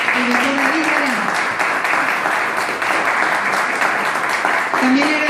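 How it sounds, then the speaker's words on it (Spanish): Audience applause for Dr. David Galeano at a tribute ceremony in Paraguay, steady sustained clapping throughout, with a voice speaking over it at the start and again at the end. "Por favor, un fuerte aplauso para el doctor David Galeano."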